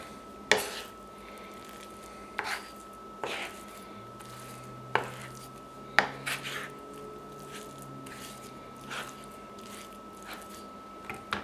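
A knife presses and mashes a softened square of butter against a board, producing about ten sharp taps and squishy smears at irregular intervals, close but fairly quiet over a low background hum.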